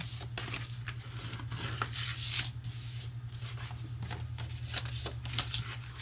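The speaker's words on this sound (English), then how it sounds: "So then we are going to fold and burnish all of our scores." Scored patterned paper from a 6x6 paper pad is folded and burnished along its creases, giving a steady run of close, dry rubbing and crisp paper swishes under a low background hum.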